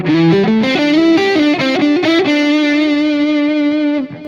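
A distorted electric guitar plays a short lead phrase ending on a held sustained note, with mids cut and treble boosted, sounding thinner and brighter, with no talking.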